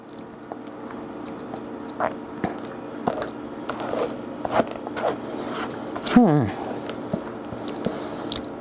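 A protein cookie being bitten and chewed, soft crunching and squishy mouth sounds over quiet room noise, with a brief zipper-like scrape partway through.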